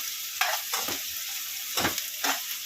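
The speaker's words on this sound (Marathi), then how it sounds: "तर आता गरमागरम तेलामध्ये कांदा बारीक चिरलेला टाकायचा आहे." Finely chopped onion dropped into hot oil and stirred, a steady sizzle with a few louder bursts of stirring and spattering, close and clear with no talking.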